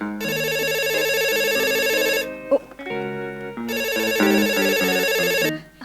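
A bright electronic phone ringtone plays a repeating melodic phrase twice, loud and close, with a short pause between the two rounds.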